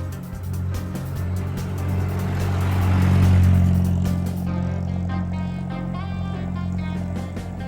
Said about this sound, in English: Vintage car.